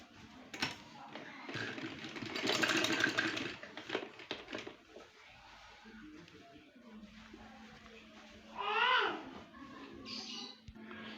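A sewing machine runs zigzag stitching on a cutwork trouser and sleeve design in bursts of fast mechanical whirring, with quieter pauses and a voice talking faintly in between.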